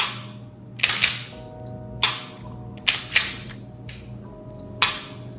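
A cleared pistol being dry-fired, sharp metallic trigger and slide clicks in a series of seven or so crisp snaps, close and isolated with quiet gaps between.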